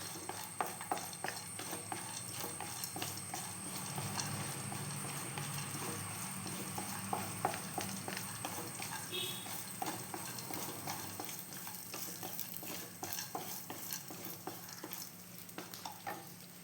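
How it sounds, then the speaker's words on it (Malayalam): Ingredients for aval halwa roasting in a pan, a quiet continuous sizzle with frequent light scraping and stirring clicks spread evenly throughout, close and faint, with no talking. "അപ്പോൾ ഇതൊന്ന് വറുത്തെടുക്കാം."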